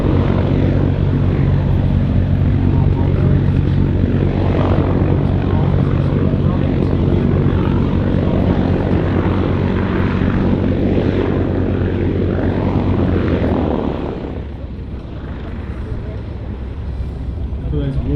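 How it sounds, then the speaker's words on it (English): The radial piston engines of a Lockheed Hudson rumble and turn over steadily at an airshow, a loud dense drone that eases off near the end. "Lockheed Hudson starting its pre-flight checks or pre-start checks, turning the engines over"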